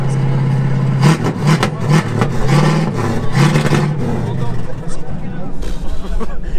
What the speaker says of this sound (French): Une Rolls qui sonne comme une américaine, qu'est-ce que c'est?